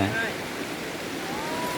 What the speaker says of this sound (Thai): น้ำไหลสบายสบายเลย